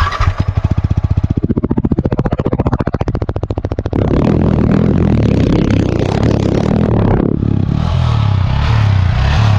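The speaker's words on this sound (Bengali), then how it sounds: "R15 ভার্সন 3 এক্সস্ট সাউন্ডটা একটু শুনি" Yamaha R15 V3 motorcycle exhaust revving up loudly close by, a rapid pulsing rasp that rises through the first few seconds, then settles into a steady, dense engine roar.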